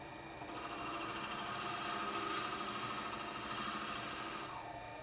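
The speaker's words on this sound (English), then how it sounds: "Lock the tailstock in and just kind of start drilling the hole for it." A steady mechanical whir of a drill bit boring a hole into a wooden pen blank on a lathe, fed from the tailstock, constant and moderately loud, running without pause and with no voices.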